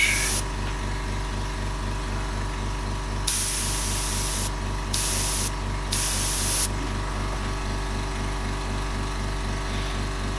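Airbrush spraying paint onto a realistic portrait, several short hissing bursts over a steady low mechanical hum from a compressor, close and without talk.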